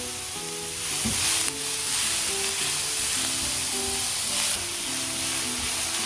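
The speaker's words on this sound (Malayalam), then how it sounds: "ചെറിയൊരു ബ്രൗൺ കളർ ആവണ വരെ നമുക്ക് ഇളക്കി കൊടുക്കാം" Bottle gourd stir-fry sizzles steadily in a hot pan while being stirred, with a continuous close frying hiss and occasional scraping of the spoon, no voices.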